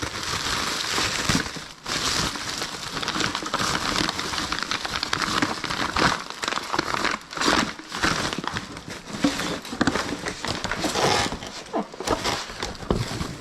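Plastic shopping bags being handled and crumpled in a storage unit: continuous close crinkling and crackling for about thirteen seconds, dense and busy with a few brief gaps.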